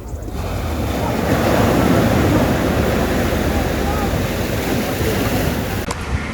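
Ocean surf on Tajpur beach near Digha roars loudly and steadily, a dense wash of breaking waves mixed with wind buffeting the microphone, holding nearly constant throughout.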